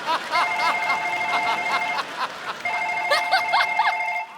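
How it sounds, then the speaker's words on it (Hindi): A telephone bell rings in two bursts of rapid trilling tones with a brief gap between, loud and close, set against a studio backdrop with faint laughter. "और हमारा फोन वाइब्रेशन पे है।"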